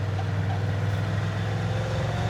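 An old Ford truck engine pulls in second gear, a steady low drone with a constant rumble that holds even and close throughout, with no talking.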